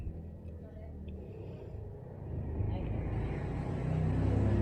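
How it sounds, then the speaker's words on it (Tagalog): Motorcycles passing by outside a house, their engine drone swelling from a low hum to a louder, nearer rumble toward the end. "Maraming mga motorsiklo na dumadaan."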